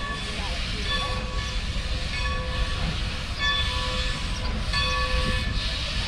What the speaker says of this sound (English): So the regular steam engine's now pulling out.